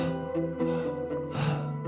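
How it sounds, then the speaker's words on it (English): Rhythmic breathing through an open mouth, a big inhale flowing straight into an exhale with no pauses, breathy noise bursts close up over a steady background music bed. "Now we'll be breathing in and out through an open mouth,"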